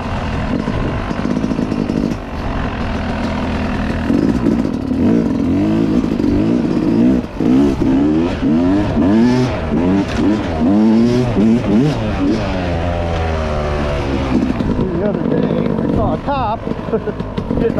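A Yamaha YZ250X two-stroke dirt bike engine revs hard while riding, loud and close, its pitch climbing and dropping repeatedly through gear changes, with brief talk over it.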